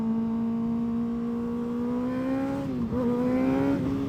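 A Kawasaki sport bike engine holds a high, steady rev near the red line, a loud close whine with a slight rise and brief dip toward the end, no voices over it.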